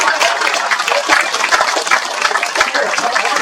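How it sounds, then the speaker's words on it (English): An audience at a 60th wedding anniversary party applauds for John, a dense, even patter of many hands clapping throughout, close and fairly loud. "So let's have a big hand applause for John."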